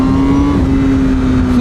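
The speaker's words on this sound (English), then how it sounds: "hear the exhaust opening up a little bit there" A 2021 Honda Fireblade CBR1000RR-R SP with stock exhaust drones steadily under load as its exhaust valve opens, a loud, sustained engine tone heard close while riding.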